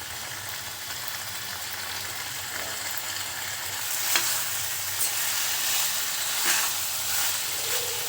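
Chicken fries on high flame with a steady, close sizzle and hiss, broken by occasional stirring scrapes that grow busier midway, without any speech.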